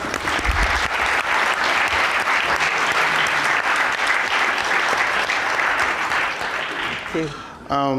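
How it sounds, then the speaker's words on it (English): Conference mainstage audience applauding warmly and continuously for several seconds, a full, even clatter of many hands that tapers at the end as a voice begins. "Let's give her another round of applause."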